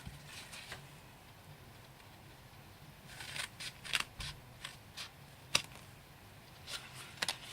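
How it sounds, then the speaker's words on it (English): Scissors cut paper card for a three-dimensional marmalade box, producing a run of short, crisp snips close by, loudest in the second half, with no voices. "Cut thin. Just right up to the line."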